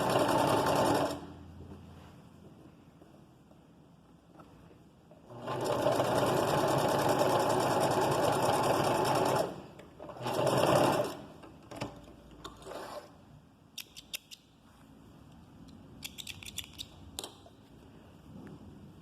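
A sewing machine gathers fabric by sewing over stretched elastic in a few long, steady runs separated by pauses, followed by quick short bursts and clicks near the end, close and clear with no voices.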